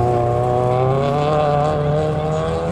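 A Lotus Elise at a slalom course drops into second gear, its engine note loud and close with strong steady harmonics that sag slightly as revs fall, continuous throughout.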